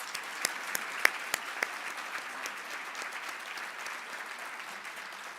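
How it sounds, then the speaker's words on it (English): Audience applause at a military spouse awards ceremony, a steady crowd clapping with a few sharp louder claps near the start, sustained at moderate level to the end. "Let's give them a round of applause"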